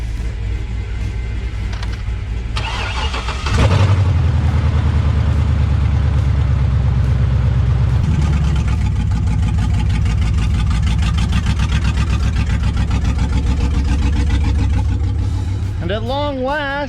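A truck engine cranks and catches a few seconds in, then settles into a loud, steady, rumbling idle that continues close by; a brief whistle-like tone appears near the end.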